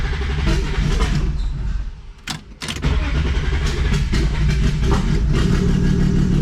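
A 1987 BMW E36 with a cold engine cranks and fires with a short stumble, then settles into a steady, loud idle heard up close, with no talk over it.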